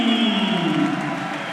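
Audience at a Muay Thai bout applauds the winner, a steady, moderately loud wash of clapping and crowd noise that tapers slightly toward the end.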